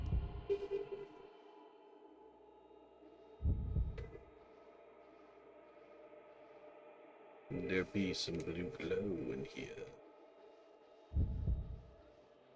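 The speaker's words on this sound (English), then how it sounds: "I hear the heartbeat." Low, soft thumping heartbeat pulses recur at intervals in Fatal Frame 2 gameplay, separated by quiet stretches, with a person talking in between.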